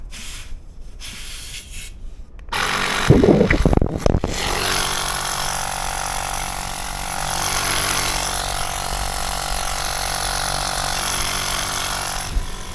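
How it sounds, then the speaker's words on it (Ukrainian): Small electric air pump bought from Temu switches on and runs with a loud, steady mechanical buzz after a few brief clicks and handling noises, continuing alone until the end. "Друзі, хочу показати, як цей насосик працює."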